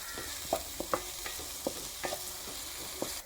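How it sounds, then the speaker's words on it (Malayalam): Onions fry in a pan for tomato rice, stirred until they turn brown: a quiet, steady sizzle broken by intermittent soft scrapes and knocks of the spoon, with no speech. "നമ്മുടെ സവോള ഒരു ബ്രൗൺ കളർ ആവുന്നവരെ ഒന്ന് ഇളക്കി കൊടുക്കുക നന്നായിട്ട്"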